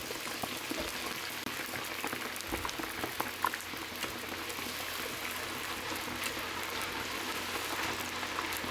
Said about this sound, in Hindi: अब मैं करूँगी चिप्स फ्राई करूँगी